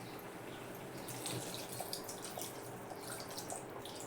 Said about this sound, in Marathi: आता ह्याच्यात अजून थोडंसं पाणी घालायचं